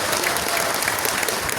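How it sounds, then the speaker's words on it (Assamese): Audience applause in a hall at a general conference, a steady, dense burst of clapping from a large crowd, loud and continuous with no talk over it. "আৰু এটা খুব ডাঙৰ হাত চাপৰি মাৰিব লাগিব"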